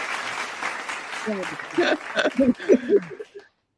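Audience applause at a live singing show, starting as a mid-level clatter of clapping mixed with crowd voices and cheers, then breaking into a few louder claps and whoops before stopping abruptly.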